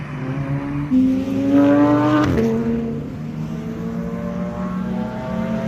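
A car races past on the track at a Laguna Seca track day, its engine revving up loudly, pitch rising and then dropping as it passes before fading to a steady drone.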